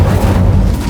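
Incendio fire spell cast in Hogwarts Legacy, a loud, brief, deep whooshing boom that fills the whole second, with no talk over it.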